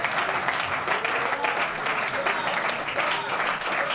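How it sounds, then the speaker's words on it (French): A Pentecost church congregation applauding and cheering the Lord, dense continuous clapping with crowd voices mixed in, steady and full throughout. "Est-ce qu'on peut acclamer le Seigneur?"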